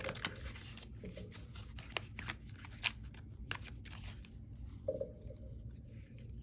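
Soft riffling and papery shuffling of tarot cards during a reading, close and continuous with scattered sharper flicks, no talk.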